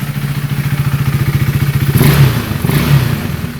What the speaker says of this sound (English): that thing's definitely sucking air and you can hear it